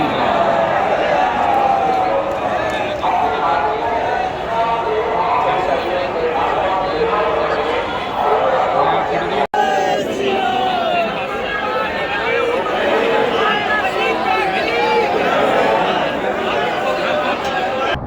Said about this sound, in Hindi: भाई साहब बहुत बड़ी भीड़ है